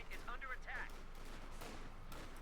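Sturmpanzer assault gun firing on riflemen during a Company of Heroes 2 battle, heard as a series of sharp gunfire and explosion bursts over a constant battle din, with a brief whistling tone early on.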